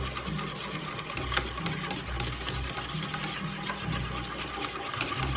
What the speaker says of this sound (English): and then we're going to whisk this together